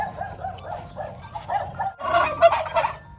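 Turkeys gobble in rapid, warbling bursts, a few birds calling close together and growing louder toward the end.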